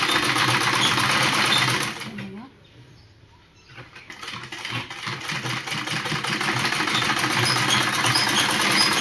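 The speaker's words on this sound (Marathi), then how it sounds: "हे बघा, आता मी पहिले ना खालून शिलाई मारते" A sewing machine stitches a satin petticoat with a steady, fast mechanical whir, briefly slowing and pausing near the start before running loud and continuous again, with no talk over it.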